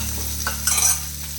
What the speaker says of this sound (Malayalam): ഉള്ളി വെളുത്തുള്ളി ഒന്ന് വഴറ്റി വെക്കണം